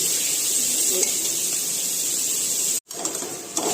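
Onions and tomatoes frying in a pan for biryani, a steady loud sizzle with a light scrape or stir, broken by a short silent gap before the frying resumes with a few clinks.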